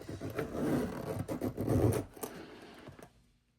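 Zipper being pulled closed on a Louis Vuitton Alma BB handbag, a close rasping scratchy run with a few stuttering tugs, fading to quiet at the end.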